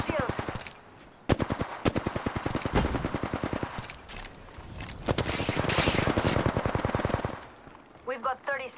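Rapid automatic gunfire bursts in the video game Apex Legends, loud sustained volleys of closely spaced shots with brief pauses between, with a voice speaking near the end.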